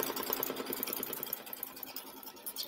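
An embroidery machine runs a tack-down stitch over placed fabric, giving a steady, fast, close mechanical whirring and clatter that keeps an even pace throughout.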